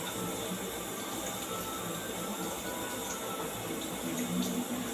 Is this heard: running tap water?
yes